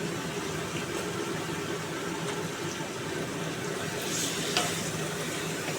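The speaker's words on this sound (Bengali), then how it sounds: "এবার মশলাটাকে ভালো করে কষাবো" Spice paste with a spoon of sugar sautéed in a pan, a steady close sizzle and crackle of frying under light stirring, with a couple of brief scraping knocks toward the end.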